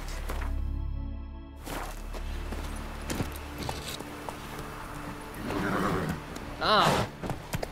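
A horse in The Witcher 3 game whinnies near the end after a stretch of hoofbeats and movement, with a low rumble at the start, all fairly close and clear.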